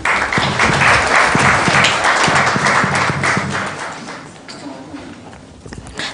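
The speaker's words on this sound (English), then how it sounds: "I think she deserves a bigger and a stronger round of applause" Applause from the audience at a ministerial conference on the IGAD Youth Policy Framework, a dense, loud round of clapping that slowly fades, with a few scattered claps continuing at the end.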